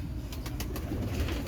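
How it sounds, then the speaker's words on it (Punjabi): A Rampuri pigeon at a Lahore pigeon market gives soft low coos amid a busy, noisy background with a few brief flutter-like bursts in the middle. "ਇਹ ਵੀ ਮਾਸ਼ਾਅੱਲਾ ਚੰਗਾ ਕਬੂਤਰ"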